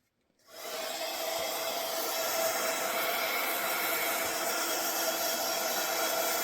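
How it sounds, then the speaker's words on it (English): A handheld heat setter dryer switches on after a brief silence, then blows a steady, close whooshing roar with a faint whine as it heat-sets ink on a craft ink resist project. "Heat setter dryer"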